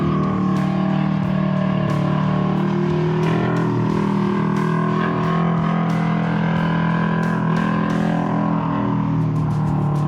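Honda Odyssey off-road buggies racing at Glen Helen, a loud continuous roar of several engines with droning harmonics and repeated sharp bursts and pops as they rev and pass.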